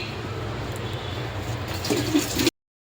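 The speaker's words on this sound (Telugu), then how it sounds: "ఉడకబెట్టుకున్నాక వాటర్ వంపేసేయాలి. వాటర్ వంపేసుకుందాం." Water rushes and splashes as it drains off a pot of boiled sorrel leaves, close and steady, growing a little louder with wet gurgles before stopping abruptly.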